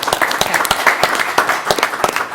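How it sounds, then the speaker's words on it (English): A school board meeting audience gives a round of applause honoring a school, close, loud and irregular individual claps spread through the whole stretch. "So let's give them a round of applause for that."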